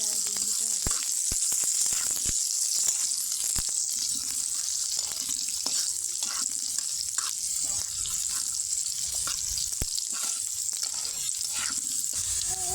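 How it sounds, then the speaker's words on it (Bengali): Onion and garlic frying in oil in a kadai while being stirred, steady close sizzle with spatter pops and scraping spatula strokes throughout, untouched by talk. "তো বাদামি কালার হওয়া পর্যন্ত ভালো করে নাড়াচাড়া দিয়ে নিতে হবে।"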